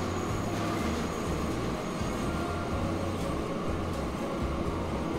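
An electric locomotive rolls across a new bridge in Transport Fever, giving a continuous loud rumble of wheels on rails with a steady mechanical hum and faint squeal, without any talk.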